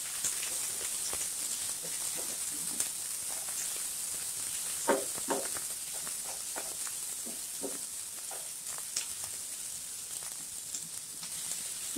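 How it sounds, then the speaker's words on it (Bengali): Chopped tomato added to onions already frying in a pan for a Bengali potato bhorta, crackling with a steady sizzle and a few sharp spits and stirring scrapes, fairly quiet and close, with no talking. "এখন কুচি করা টমেটোটা দিয়ে দিলাম, একটু নাড়াচাড়া করে নিব"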